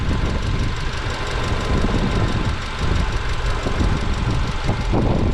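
Steady, loud running of a 2000 Subaru Impreza engine with its flywheel spinning, a continuous dense mechanical rumble with faint knocking texture and no pauses.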